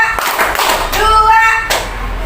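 A classroom of children clap their hands in a counted clap routine led by a teacher, a few sharp claps ringing out together close by, with voices mixed in.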